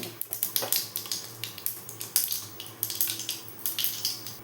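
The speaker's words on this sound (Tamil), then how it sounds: "கடுகு நல்லா பொரியட்டும்." Mustard seeds, with a little urad dal, crackling in hot oil on a gas stove for a chutney tempering: a dense run of quick sharp pops and sizzle, steady and close, alone with no talking.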